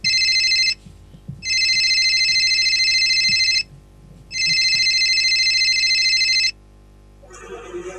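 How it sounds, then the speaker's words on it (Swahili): A telephone rings loudly in repeated long electronic bursts separated by short gaps, three rings in total, before a different softer tone enters at the end. "Simu inaita."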